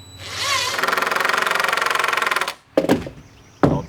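Power driver sinking a screw into a deck board during a deck repair, a loud rapid rattling whir lasting about two seconds, then a couple of short clunks as the tool settles.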